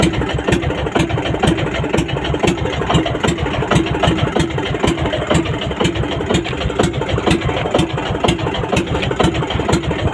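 The engine of a new fishing boat idles off Mindoro, giving a loud, steady, close rhythmic chugging with even knocks throughout and no voices.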